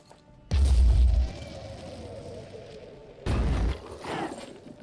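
Two loud explosions from the Phoenix Point tactical video game, a deep booming blast followed by rumbling debris, then a second heavy boom a few seconds later, with no talk over them.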